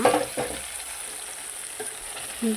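Cooked mango going into a village-style mango curry pan, giving a soft, quiet sizzle with a few light stirring bumps and plops at the start and end.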